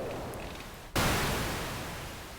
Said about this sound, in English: We're kind of getting back into white noise territory.